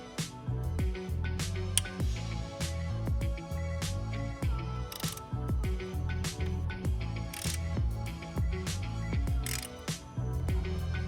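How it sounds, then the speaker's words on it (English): A ratchet wrench loosening 10 mm bolts on an engine rocker box, a rapid continuous clicking of the pawl at close range, in quick repeated bursts with no talking. "Now we're gonna go ahead and remove our rocker box. We've got 10 mil bolts."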